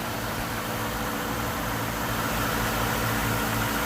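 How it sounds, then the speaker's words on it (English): A 1999 Mercury Grand Marquis engine idles quietly and evenly, a soft steady hum with a faint rhythmic pulse and no talking. "Like I said, runs really good. Pretty quiet car."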